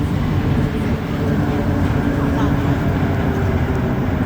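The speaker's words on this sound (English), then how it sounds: "we're on AZUR Metro train set number 62" Steady low rumble and rattle from inside an AZUR Montreal Metro train, set number 62, running between stations on the underground line, loud and continuous throughout.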